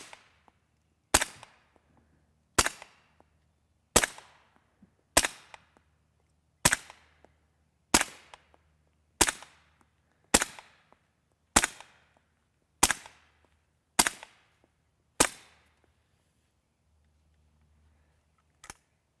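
An FN P90 fires subsonic 5.7x28mm 55-grain FMJ Liberty Armament rounds: about twelve quiet, sharp shots at a steady, slow pace, each clipped and close. No one speaks between them.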